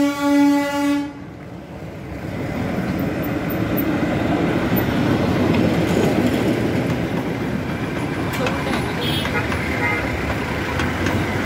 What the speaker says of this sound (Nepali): ओ यो ट्रेन कराउँछ नि